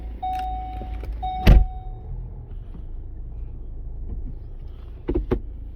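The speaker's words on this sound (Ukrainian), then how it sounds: "Чотири склопідйомники" Power windows in an Opel Grandland X whir briefly in two short runs inside the car, with a sharp knock between them and more clicks near the end over a quiet cabin hum.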